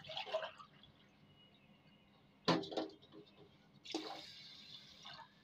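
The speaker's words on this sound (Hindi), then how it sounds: "अभी इसमें आधा किलो शक्कर ली हूँ और इसी के माप से 2 गिलास पानी डाल देती हूँ।" Water is poured from a glass into a pot of sugar to make syrup for gulab jamun. It comes as a few brief splashing pours separated by pauses, with faint kitchen background noise.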